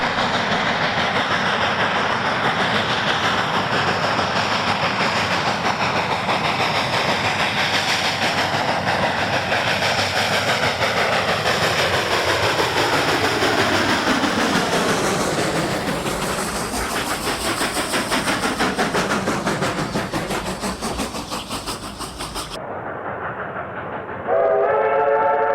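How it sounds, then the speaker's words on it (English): A Cumbres & Toltec Railroad train runs steadily near Chama, New Mexico, its rumble and rhythmic wheel clatter filling the scene, with a whistle sounding toward the end. "The train rounds Windy Point,"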